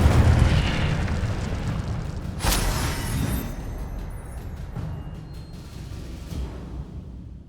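A fiery Incendio spell erupts in Hogwarts Legacy gameplay: a loud, rumbling burst of flame with a sharp crackling flare a few seconds in, then a roaring blaze that slowly dies away, with no talk over it.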